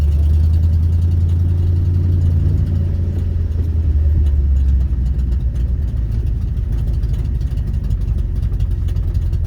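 A 1971 Ford F250 Highboy pickup idling up close, a loud, steady low rumble that holds even throughout.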